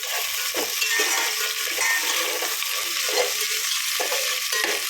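Mint and other ingredients frying in a pan for a meal maker biryani, a dense, even sizzle close up with repeated stirring scrapes throughout.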